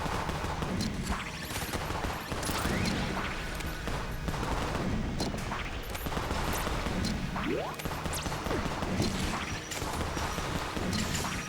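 Rapid bursts of gunfire from the video game Enter The Gungeon, a steady dense barrage of shots with clanking mechanisms throughout, continuous and fairly loud with no talking.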